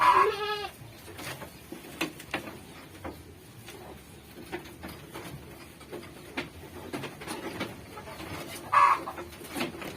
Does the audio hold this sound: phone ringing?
no